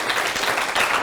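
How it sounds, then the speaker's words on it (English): An audience at an inaugural university lecture breaks into dense, steady applause, many hands clapping together in a sustained close wash of sound. "I'd like a big round of applause for all of you"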